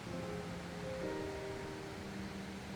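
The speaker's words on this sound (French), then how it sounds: "on entend juste derrière une cascade" Rushing water from a waterfall and mountain torrent just behind, a steady broadband roar that holds at an even level throughout with no voices.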